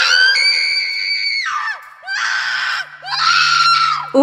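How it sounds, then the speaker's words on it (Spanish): A harrowing, drawn-out scream rings out loud and alone, breaking into three piercing high-pitched wails with brief gasping pauses between them. "Un grito desgarrador rompió el silencio del callejón abandonado"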